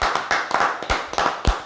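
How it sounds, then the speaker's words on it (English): A few short, sharp hand claps ring out in a quick, uneven burst in a sports talk show studio. "Can we officially give LeBron James the NBA SA a round of applause?"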